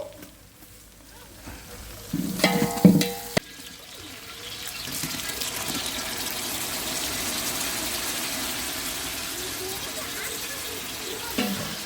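Mushroom biryani masala, with fenugreek leaves and spices, sizzles and hisses in a pan as it is stirred. A brief burst of clattering comes early, then a steady, close frying hiss continues.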